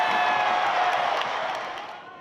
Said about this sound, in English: The cheering never stopped.